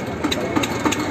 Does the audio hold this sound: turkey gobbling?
no